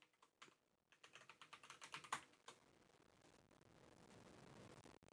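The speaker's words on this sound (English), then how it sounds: "I'm just gonna type in Win2000VM for this example." Fingers type a computer name on a keyboard while setting up a Windows 2000 installation, with a quick run of close, light clicks growing slightly louder before stopping, then near silence.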